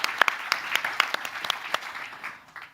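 At a Nordic happiness summit, an audience applauds a panel speaker with distinct, separate claps that come quickly at first, then thin out and fade toward the end.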